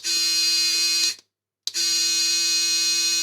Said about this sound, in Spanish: Esta sí la enciendo.